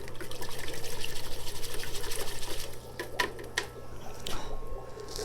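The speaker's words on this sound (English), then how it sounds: "I'm going to rinse it again." Running water rinses the combed-out roots of a crape myrtle bonsai, a steady pulsing spray for a few seconds that then softens into looser trickling and splashing close by.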